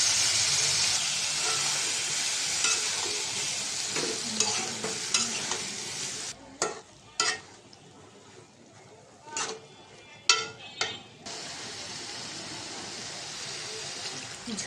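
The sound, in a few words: eggplant and tomato frying in a pan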